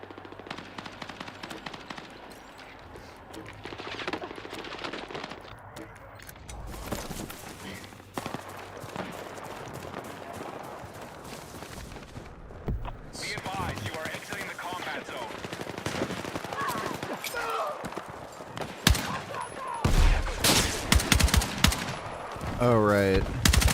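Rapid video game gunfire with automatic bursts and scattered shots, loud and continuous across the clip, dense and close, with occasional louder bursts near the end and voices faintly mixed in.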